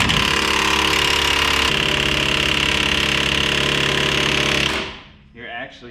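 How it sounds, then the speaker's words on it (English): An impact wrench spins a nut back onto a bolt during a front leveling kit install on a 2014 Ram 1500, giving a loud, close, continuous rattling hammer for several seconds before cutting off abruptly, then a faint brief noise follows. "You're actually spinning the nut back on the bolt."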